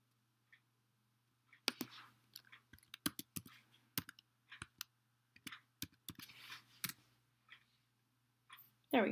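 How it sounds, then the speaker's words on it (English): Mouse clicks and key taps on a computer while logging in to a reading program: a scatter of sharp, close, dry clicks in irregular bursts over a low steady hum, with no voices. "you're going to click Login"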